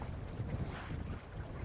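Wind rushes and buffets around a Welsford Navigator sailing dinghy beneath steep cliffs on the open coast, a steady close roar with faint water movement underneath.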